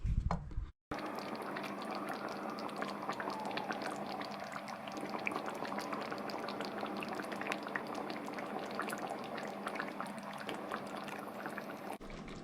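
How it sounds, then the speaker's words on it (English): Chicken and strawberry korma sauce simmers in a pan, a steady soft bubbling and popping that runs continuously, close to the listener and with no voices. "simmer away for, I don't know, maybe 20 minutes or so"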